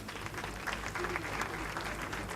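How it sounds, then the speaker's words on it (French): An audience at an award ceremony claps steadily and densely, a continuous crowd applause that stays even throughout, heard from within the room. "Sous vos applaudissements, s'il vous plaît"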